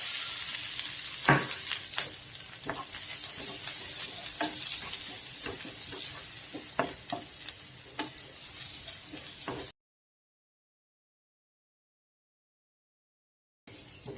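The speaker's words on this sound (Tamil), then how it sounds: "இது கொஞ்சம் வறுபட்டதும் இதுல ஒரு 1/2 கப் தேங்காய், துருவன தேங்காய்." Cashews and grated coconut roast in a pan, giving a steady soft sizzle with occasional stirring clicks, followed by a few seconds of silence and then a brief return of sizzling.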